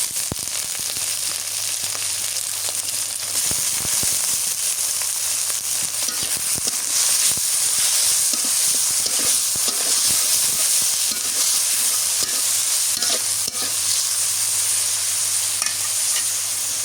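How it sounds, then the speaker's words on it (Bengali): Intense, steady sizzle of prawns frying in a hot pan with onions and chilies, a loud continuous hiss with occasional stirring clatter, no speech. "পেঁয়াজ মরিচ ভাজা হয়ে গেছে এবার চিংড়ি মাছগুলো দিয়ে দিই"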